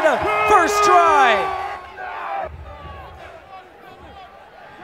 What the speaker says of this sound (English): Much to the elation of the home crowd.